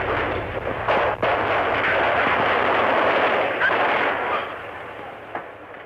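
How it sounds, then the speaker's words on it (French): Kalashnikov automatic rifle fire from a recorded hold-up soundtrack, a loud sustained burst of rapid shots with sharp cracks standing out, harsh and continuous throughout with no talk over it. "j'ai entendu la rafale de Kalachnikov"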